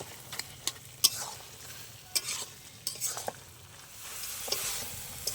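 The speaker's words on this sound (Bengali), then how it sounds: "আরও 2 মিনিট নেড়ে নেবো ভালো করে" A spatula scrapes and stirs ash gourd ghonto in a pan as the last of its water cooks off. It makes irregular scraping knocks over a soft, steady sizzle, close and with no voices.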